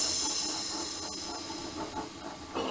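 A steady, loud hiss of steam dominates, with faint rhythmic rumbling of a train underneath and no voices.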